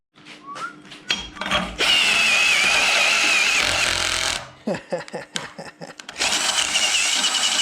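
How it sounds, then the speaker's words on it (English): A whining drill runs in long sustained bursts, broken by a stretch of sharp clicking and knocking before the drilling resumes loud and close. "This is going to be a very unpleasant 4 holes."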